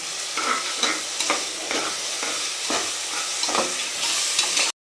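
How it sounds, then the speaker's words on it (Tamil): Ginger-garlic paste stirred into onions and tomatoes frying in a pan for chicken biryani: steady sizzling with repeated scraping spoon strokes about every half second, close and fairly loud, no talking. "இஞ்சி பூண்டு பேஸ்ட்டு எப்போயுமே வெங்காயம் தக்காளி வணங்கினோடனே தான் போடணும்"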